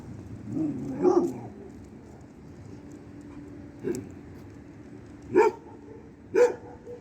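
Three street dogs and a pit bull bark in a few sharp bursts, spaced out, with a rougher growling sound early on; fairly close and moderately loud.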